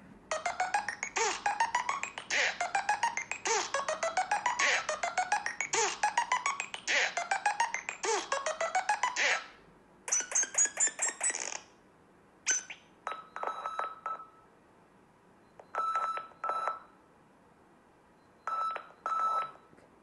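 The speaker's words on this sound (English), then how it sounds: "I would never have that as my ringtone." Nothing Phone 1 ringtone playing alone, loud and near: a long run of rapid repeated glitchy electronic chirps for about ten seconds, then sparse short bursts of tones separated by silence.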